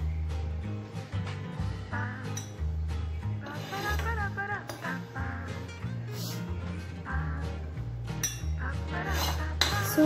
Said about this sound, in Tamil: இந்த பவுலுக்கு மாற்றலாம்